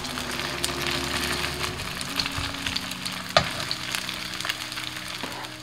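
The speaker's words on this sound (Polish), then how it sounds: "na rozgrzany olej, w moim przypadku to olej kokosowy, wykładamy i powoli sobie smażymy z każdej strony na złoty kolor." Zucchini and millet cutlets fry slowly in hot coconut oil, giving a steady close-up crackling sizzle with occasional sharper pops and a brief clatter.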